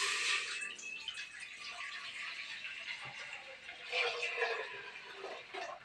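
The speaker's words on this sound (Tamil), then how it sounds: "இப்போ பாருங்கள் பருத்தி பால் பண்ணுறேன். பருத்தி பாலை ஊற்றிக்கிறேன்." Cotton seed milk poured from a container in a kitchen, a soft liquid splash and trickle rising and falling in two brief surges, quiet and close with faint background noise.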